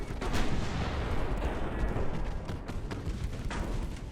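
Warship secondary guns fire in Ultimate Admiral Dreadnoughts, a dense, continuous barrage of overlapping booms and thuds with sharper cracks breaking through, rumbling steadily with no voices.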